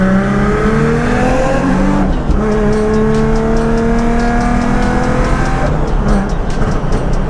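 Procharged Nissan 350Z heading onto a race track: a loud, steady engine drone with rising and falling pitch as the car accelerates and shifts, heard from inside the car with no talk.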